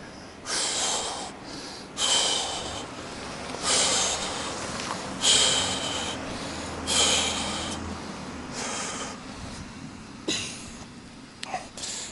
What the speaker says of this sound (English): I get very labored breathing like this.